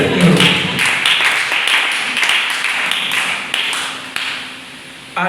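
A church congregation claps and cheers in praise of the Lord, a dense, steady wave of applause that carries loudly through the whole stretch and tapers near the end.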